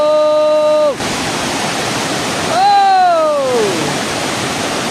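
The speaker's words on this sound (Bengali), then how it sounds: "পানির এই শব্দটা নিশ্চয়ই আপনারা শুনতে পাচ্ছেন" Water rushes steadily over a waterfall in a scenic outdoor spot, a loud continuous broadband roar that fills the scene, with whistling tones passing through it partway.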